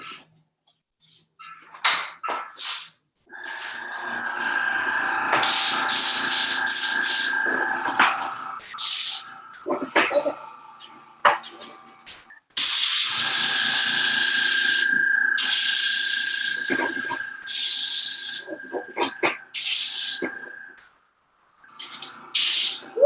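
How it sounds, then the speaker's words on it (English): A paint sprayer spraying underglaze in repeated bursts of loud hissing, some short and some sustained for several seconds, separated by quiet pauses, close by. "with my sprayer on, it's going to be a little more noisy"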